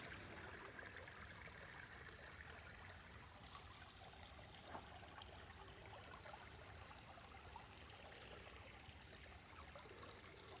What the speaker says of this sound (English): rippling sound of a creek